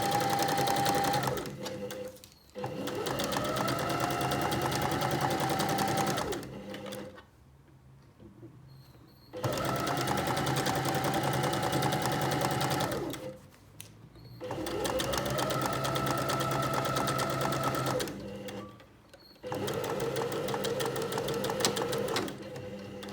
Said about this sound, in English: So I'm going to do the same on the lining. Let's sew down the two long sides.